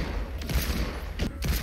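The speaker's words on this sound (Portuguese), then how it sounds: "Opa, tô recebendo tiro." Bursts of muffled gunfire in a video game, a few quick volleys of shots with a low rumble between them.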